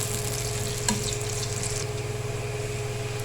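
Onions softening in a pan give a steady, moderate sizzle with a faint rhythmic pulse beneath and a brief clink near the start, heard close with no talking.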